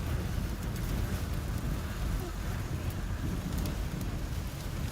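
Heavy rain and strong wind roar steadily during a thunderstorm with a tornado in Beaver, Oklahoma, a dense, continuous wash of noise with a low rumble underneath.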